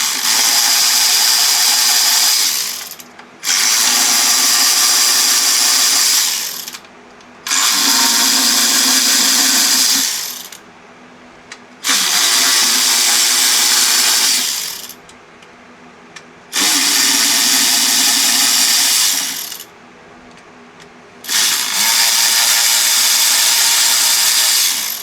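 A power tool loosens the eight 8mm screws on a Pentastar engine's lower intake manifold, giving six loud, close whirring bursts with short pauses between them and no talking.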